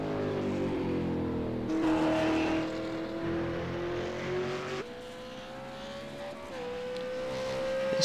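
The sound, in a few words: race car on the Monza track in the iRacing sim racing game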